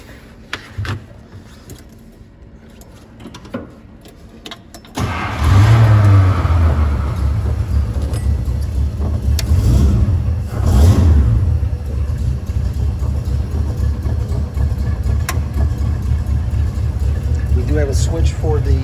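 A 1927 Ford Model T engine cranks and catches at about five seconds, then settles into a steady, loud, low rumbling idle that runs on without a break.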